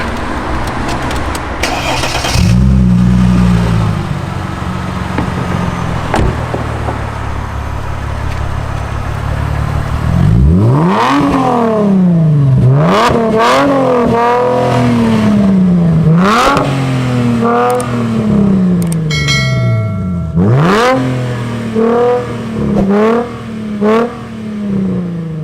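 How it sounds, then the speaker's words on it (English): A Mercedes SLK 350 engine starts and settles to idle, then pulls away with repeated rising revs and gear changes. The engine sound is loud and close, heard from inside the car, with a brief high chirp near the end. "join me for the last ride in the SLK 350"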